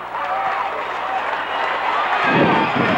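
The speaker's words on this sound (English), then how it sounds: "the crowd is mobbing out on the floor" Loud basketball crowd roaring and applauding as fans rush onto the court after a 1990 Pella Christian versus Creston substate game, a dense, sustained wall of cheering that swells toward the end.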